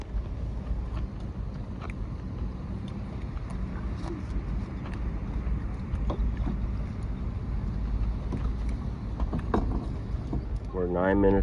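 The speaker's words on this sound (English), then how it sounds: "Look at all these boats coming in still." A steady low rumble of many motor boat engines over the water near a SpaceX Starship launch, with wind buffeting the microphone and a voice speaking briefly near the end.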